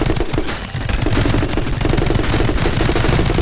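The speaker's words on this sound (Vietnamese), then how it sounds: "Bắn cái súng máy tí nó xịt luôn" A machine gun in the action game My Friend Pedro fires a dense, loud stream of rapid shots that continues almost unbroken for a few seconds, with a brief dip partway through.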